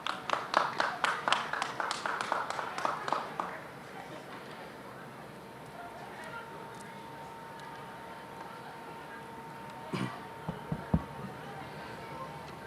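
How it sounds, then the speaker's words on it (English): Audience clapping at an outdoor 90th birthday celebration in a city square, a dense burst of applause for about three seconds that quickly dies away, followed by quiet ambience with a few scattered late claps. "Please give a warm round of applause to Kempo Kunga Sherabla."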